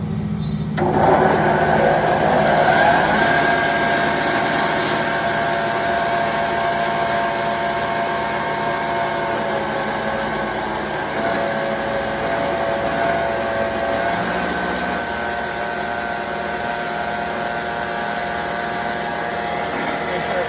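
An old belt sander fitted with a new sanding belt runs in a loud, steady motor whine with a whirring belt, close up, starting sharply and holding an even drone throughout.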